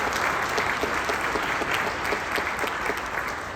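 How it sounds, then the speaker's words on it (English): Audience applause at a high school wind ensemble concert, a dense, steady wash of many hands clapping that holds at an even level from start to finish. "will you give them a round of applause for all they did today?"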